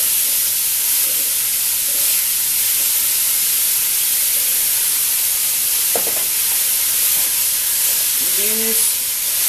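Ground meat for chili sizzles steadily in a hot pan, a continuous close hiss with a few faint clicks and scrapes near the end.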